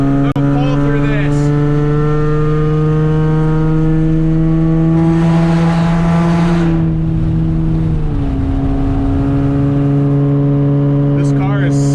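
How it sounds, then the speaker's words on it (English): A loud Ford Mustang V8 rumbles steadily as it drives, with its exhaust swelling in a revving pull midway before settling back to a heavy drone, while someone talks over it. "This car is so loud, so loud."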